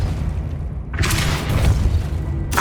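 Depulso spell cast in Hogwarts Legacy: a low booming thud followed by a bright bursting whoosh, then a second sharp burst at the end, all over a steady low game drone.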